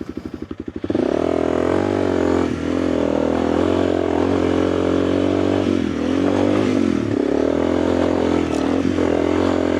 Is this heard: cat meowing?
no